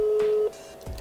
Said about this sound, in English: Oh yeah, it's calling.